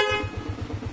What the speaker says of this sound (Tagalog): nagpaabit din tayo ng PIA horn. Test natin.